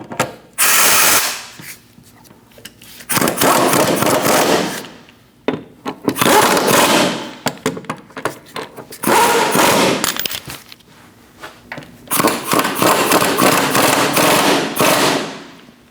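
A ratchet wrench tightens the lower control arm mounting bracket bolts on a 2000-2006 Mini Cooper, giving loud, close bursts of rapid clicking that repeat four or five times with brief gaps between them.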